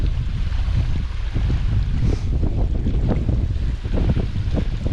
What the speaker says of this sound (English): Now, here is Lower Post Oak Falls,